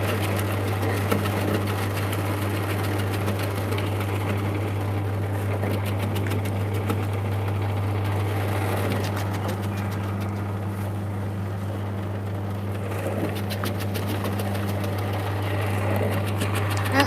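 Ginger processing machine running steadily, a loud, constant motor hum with a low drone and mechanical whirring that stays even throughout, with no speech over it.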